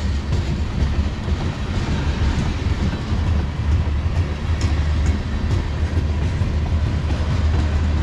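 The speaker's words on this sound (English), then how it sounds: "Probably gonna be the last train of the day." CSX M403 manifest freight train with many loaded tank cars rolling past, led by an ET44AH and ES40DC: a steady, loud, close rumble of wheels and cars with clickety-clack rhythm throughout, no talk.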